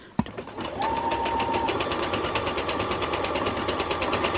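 A sewing machine runs a zigzag stitch on stretch fabric, a rapid steady mechanical whir and chatter close up after a sharp click at the start, continuing without pause.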